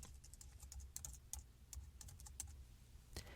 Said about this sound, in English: Click on this button on the right-hand side and just type in some JavaScript.